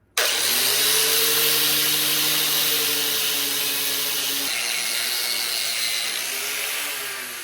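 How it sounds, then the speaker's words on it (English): Biscuit wheel on a power tool cleaning rust off a hog splitter part with light pressure, a loud continuous grinding whir with a steady motor drone that drops slightly in pitch midway and tapers off at the end. "Going to use again my biscuit wheel and just use light pressure just to clean the rust off."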